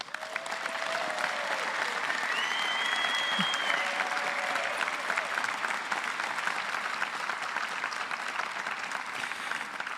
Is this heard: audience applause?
yes